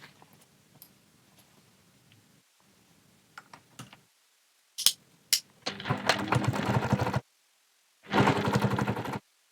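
Sewing machine top stitching along a fabric seam, heard as two loud, dense bursts of rapid mechanical stitching after a stretch of faint handling and small clicks.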